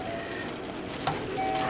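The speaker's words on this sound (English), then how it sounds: "Now this beef has been frying now for" Ground beef frying in a pan for lasagna, a soft steady sizzle with a faint scrape of stirring, heard alone and fairly quiet.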